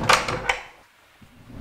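A double pocket door with soft-close hardware slides and bumps in its cavity frame, with a few quick knocks and rattles up front, then a quiet pause and a faint, soft thud.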